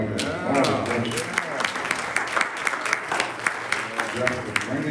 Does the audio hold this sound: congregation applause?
yes